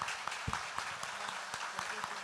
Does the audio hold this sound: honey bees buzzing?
no